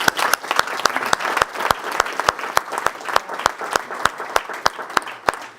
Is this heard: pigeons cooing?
no